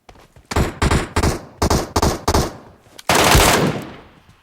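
Bursts of automatic gunfire in the game Metro Royale, several short close volleys in quick succession ending in a longer sustained burst, loud and sharp.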